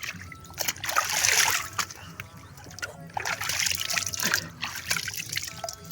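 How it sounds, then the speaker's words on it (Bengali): Water splashing and trickling as someone washes their face outdoors, intermittent splashes and dribbles close by with a faint voice underneath. "মুখটা ধুয়ে নেই"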